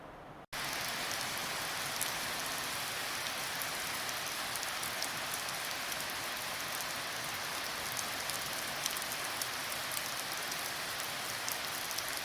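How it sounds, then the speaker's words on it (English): Heavy rain pours steadily outside a cabin in July, a dense, constant hiss of drops drumming on surfaces with no pauses, close and loud throughout. "it's just like pouring buckets outside right now."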